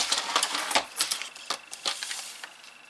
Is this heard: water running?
no